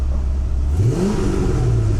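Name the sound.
car engine revving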